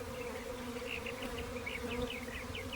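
A swarm of honey bees, drones among them, gives a steady, soft, continuous buzz, with individual insects droning past nearby and no voices.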